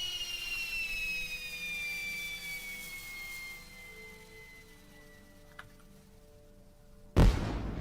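Several whistling rockets glide downward in pitch, followed by a sudden loud burst of a dragon firework explosion near the end, in Lord of the Rings Online.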